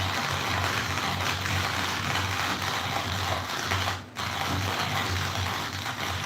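A hand coffee grinder crushing beans, with a continuous close ratcheting, gritty crunch that runs steadily and pauses only briefly near the end.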